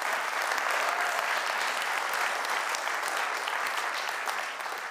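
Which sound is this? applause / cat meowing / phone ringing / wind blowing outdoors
applause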